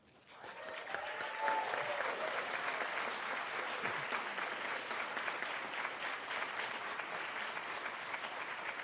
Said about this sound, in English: give the loudest round of applause you can tonight to all of our city